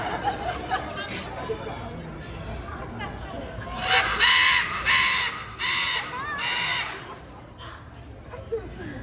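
A bird caws loudly and repeatedly on a theater stage. The harsh calls come in a cluster over a noisy background of crowd and voices.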